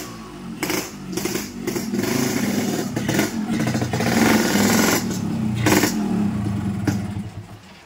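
A motorcycle engine runs loud and close, throbbing steadily and swelling through several rough revs, with no talk over it.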